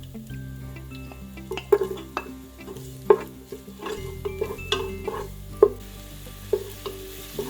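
Ginger being stirred in a frying pan for vegan Filipino arroz caldo, with a soft sizzle and repeated sharp utensil scrapes and taps against the pan over a steady tonal background.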